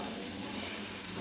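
Chickpeas being stirred into masala in a kadai for chana masala, a brief, soft, continuous sizzle and hiss from the pan, heard alone at close range.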